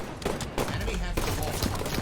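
Rapid gunfire in the video game Halo 5: Guardians, a quick run of sharp repeated shots in bursts, with a person talking over it.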